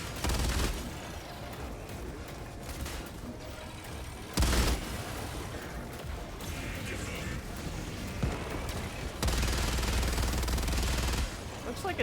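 A mech's gun fires in a video game, with a sustained stream of shots and several loud heavy blasts standing out against a continuous layer of combat noise.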